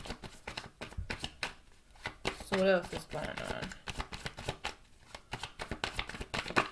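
Tarot cards are shuffled by hand in quick riffling and sliding bursts, close and soft, while a person keeps talking over the shuffling.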